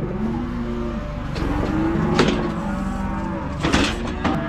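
Cattle on a ranch moo repeatedly, low drawn-out calls that overlap over several seconds, loud and fairly close, with a vehicle engine rumbling in the background.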